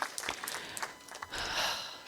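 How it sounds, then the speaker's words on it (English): An audience applauding after a talk and conversation, a short burst of close, dense clapping that thickens toward the end. "A strong round of applause once again for Raghvendra Singh and Ambassador Syed"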